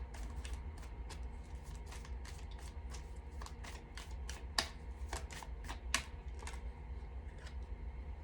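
Tarot cards shuffled and drawn in a brisk run of crisp riffling snaps and flicks, close and fairly quiet, with two sharper slaps standing out and no voice over them.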